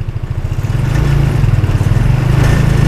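A new 2022 200cc UTV engine revs up and accelerates close by, a loud, throbbing mid-pitched drone that builds within the first second and then holds steady with a pulsing rhythm.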